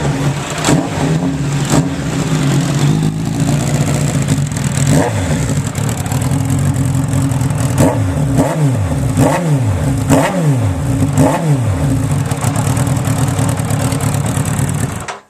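A Suzuki Bandit 1200 motorcycle with no exhaust can runs loud and close, its engine idling between a series of sharp throttle blips that rise and fall in quick succession.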